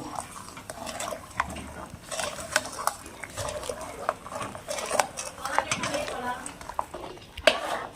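Jaggery and sugar being stirred in a pot of thickened milk, with repeated scraping and clinking strokes of a spoon against the pot, steady and close, with a few sharper knocks.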